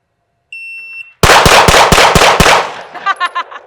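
A Glock pistol fires a rapid string of about six loud, close, sharp shots at a shooting range, preceded by the high beep of a shot timer, with fainter echoing tails after the string.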